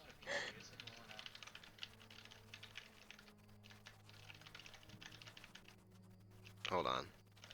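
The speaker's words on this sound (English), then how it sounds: "Typing and talking at the same time is not my forte." Keys clatter in quick, irregular bursts on a computer keyboard close by during a Dungeons & Dragons Online session. The typing runs quietly through the whole stretch, with short bits of speech near the start and end.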